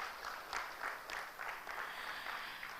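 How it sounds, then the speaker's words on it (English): Audience applause at an Asia-Pacific workshop on digital aeronautical transformation, a steady, moderately faint patter of clapping from a seated crowd lasting a few seconds, with no voices over it. "Can we please give big round of applause for all of us?"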